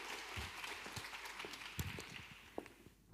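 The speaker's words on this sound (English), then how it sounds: "Let's give him a round of applause" An audience applauds to welcome a speaker at a tech conference talk, a fairly faint, dense patter of clapping from a hall that tapers off near the end.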